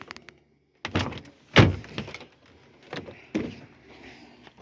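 A close Chevy Silverado truck door unlatches and swings open with a sharp mechanical clunk, followed by a few softer knocks and rattles.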